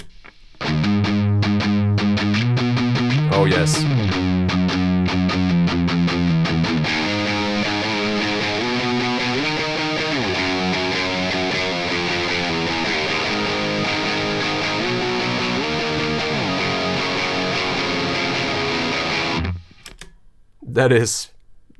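Heavily distorted electric guitar plays sustained, ringing notes and sliding bends for a long stretch, then stops; a voice speaks briefly at the end.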